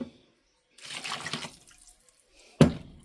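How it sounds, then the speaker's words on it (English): Water pours from a tap for about a second into a bowl of vegan apple walnut carrot cake batter, followed by quiet and a short splashy clunk near the end. "Add in 2 cups of water."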